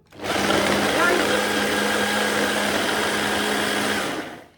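Blender whirs loudly and steadily for about four seconds, grinding a coconut oil crumble topping for a feijoa and apple crumble, starting and stopping cleanly with a constant high motor drone.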